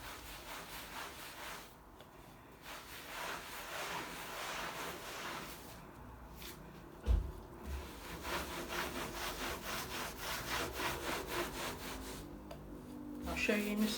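A cloth rubs dark and clear wax onto a wooden console in continuous back-and-forth strokes, with brief pauses and one sharp knock partway through.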